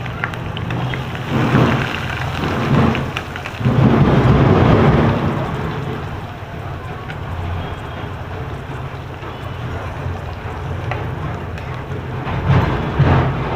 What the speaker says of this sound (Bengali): পেঁয়াজটাকে পুরো ব্রাউন হবার পর্যন্ত ভাজবো